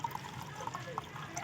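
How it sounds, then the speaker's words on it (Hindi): Clean water is poured into a small beaker holding gold recovery material, a faint, soft trickle and splash close by. "इसमें हम थोड़ा साफ़ पानी ऐड कर लेते हैं"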